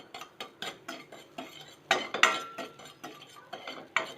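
Asafoetida powder and salt dry-roasting in a hot pan, with a spoon scraping and tapping against the metal in a quick, steady rhythm of close clinks and stirs, and only the faintest sizzle beneath.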